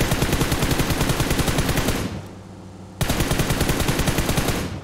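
Rapid automatic gunfire in PUBG Mobile, loud and continuous bursts of close shots, a one-second pause, then another sustained burst, with no talking.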